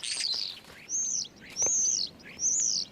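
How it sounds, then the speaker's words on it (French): Starlings calling loudly in an orchard, three bright, clear whistled calls in close succession after an opening chirp, heard near and alone. "Les tourneaux crient à tue-tête pour trouver une partenaire."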